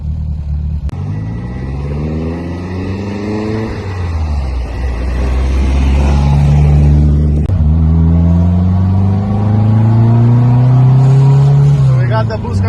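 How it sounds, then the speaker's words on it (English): A loud turbocharged 3TC engine in a Toyota TE27 revs and climbs through the gears, its pitch rising, dropping at each shift, then rising again as it pulls hard. "look how great this car runs"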